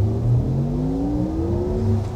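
A Porsche Turbo engine in Sport Plus mode revs up close and loud, its deep, steady drone rising smoothly in pitch over a couple of seconds.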